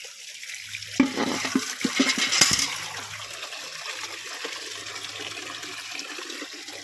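Water overflows from a borewell after heavy rain, a gushing, splashing flow that surges loudest at first and then settles into a steady rush.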